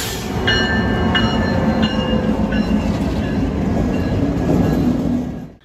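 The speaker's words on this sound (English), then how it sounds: "We have the Amtrak qualification run coming south." An Amtrak train passes on a winter qualification run near Rock Road, just south of Plattsburgh. It makes a loud, close rumble with rhythmic clickety-clack wheel beats and high squealing tones, then fades at the end.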